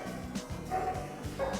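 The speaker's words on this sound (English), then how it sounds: "She's also a barker, so apartments are not recommended." A dog at an animal shelter barks in quick yipping bursts, about three or four sharp barks close by, with no talk over them.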